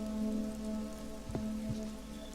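Steady rain shower falling on a surface, a continuous even patter used as ambience in a tabletop role-playing session, with a soft low hum underneath and no talk.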